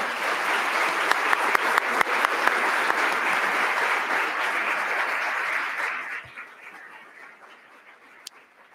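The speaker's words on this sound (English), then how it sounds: "Let's give them a round of applause." Loud, dense audience applause at a panel event on closing the COVID learning gap, a steady wash of clapping that fades quickly near the end and leaves a quiet room.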